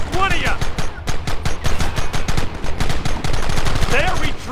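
Rapid gunfire from a Red Dead Redemption shootout, a dense stream of loud cracking shots and bursts over about four seconds, with shouted voices briefly rising over the firing.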